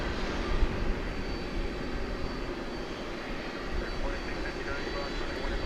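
A steady, broad engine roar comes from an aircraft operating on runway 18 right at DFW Airport at night, heard from a distance and holding fairly even throughout.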